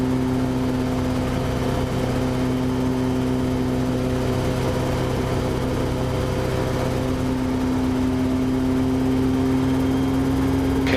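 A small aircraft engine held at flight idle on landing, a steady close-up drone with a strong low hum that stays level and unbroken throughout, no voices.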